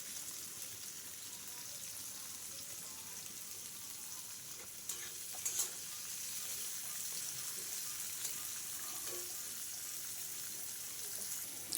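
Capsicum and four slit green chillies fry in a pan for fried rice, giving a soft, even sizzle with a couple of brief utensil clinks midway.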